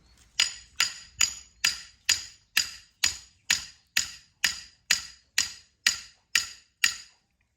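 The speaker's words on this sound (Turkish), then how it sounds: "Bu çiviyle onları çakıyorum teker teker." A nail is hammered into hard ground in about fourteen sharp, evenly paced metallic strikes, close and loud, with no talking.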